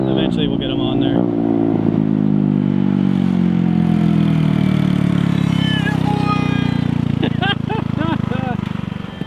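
A Metruck moped engine runs loud and close as it rides past, a steady buzzing drone that shifts pitch, with faint clatter and a brief voice near the end.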